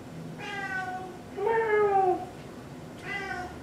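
A cat meows three times nearby, the middle meow longer and louder than the others, with quiet pauses between.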